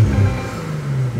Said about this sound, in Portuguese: Você colocou no neutro aqui, o ronquinho é diferente.